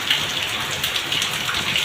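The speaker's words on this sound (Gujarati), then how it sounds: "જો મિત્રો જબરદસ્ત વરસાદ ચાલુ થઈ ગયો છે" Heavy rain pours down steadily in a dense, hissing wash of drops during a downpour, constant and close throughout the short stretch with no voices.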